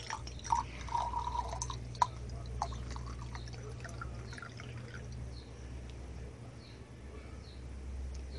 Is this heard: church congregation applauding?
no